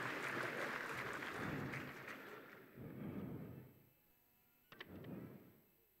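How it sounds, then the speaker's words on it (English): An audience applauds kindergarten children at a school rhythm and rhyme event, a fairly faint burst of clapping that fades, returns in waves, and ends with a short final patter. "Let us give them a loud round of applause."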